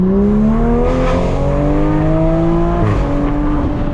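Toyota GR Supra MK5 accelerating hard from a third-gear roll, loud and close, with engine harmonics sweeping steadily upward for about three seconds before a brief dip at the shift, then pulling again.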